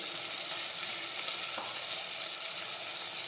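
Chopped vegetables with green garlic sautéing in a pan, a dense, even, fairly quiet sizzle that holds steady with one faint knock midway and no voices.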